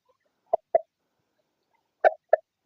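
Pet chickens kept for breeding give four short, sharp clucks in two quick pairs, close and clear, with silence around them.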